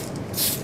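A spray of paint hisses onto an Italeri T-34/85 tank model kit in one short, close burst that swells and fades.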